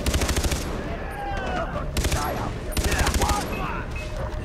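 Rapid automatic gunfire in Far Cry 3 rattles in repeated bursts with loud, close reports, alongside sporadic voices.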